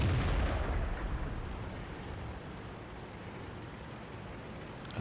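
Tank gun impacts in World of Tanks: a heavy boom at the start that rolls off into a long, fading low rumble, with no voices.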